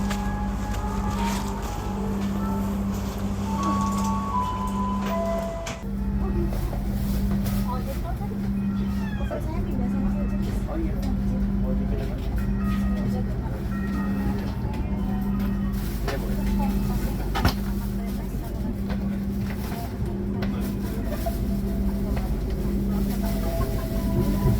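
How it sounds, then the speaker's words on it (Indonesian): A steady low engine hum and rumbling of the Manahan passenger train pulling away from Yogyakarta station, with faint squeals and clanks, as people talk nearby over the noise. "Kereta api Manahan sudah diberangkatkan dari stasiun Yogyakarta"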